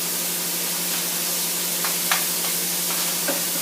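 Onions frying in a pan with rough stirring, a continuous loud sizzle and hiss with a few scraping strokes of the spoon rising out of it, no voices.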